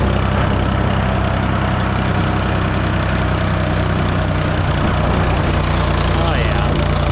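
Heavy truck engine labouring under throttle while hauling a hay load on a state route, a loud, steady low rumble that persists throughout with no pauses.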